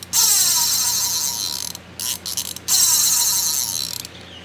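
A freshly maintained spinning fishing reel whirs with a fast, steady ratcheting sound, loud and close, cutting out briefly twice before resuming.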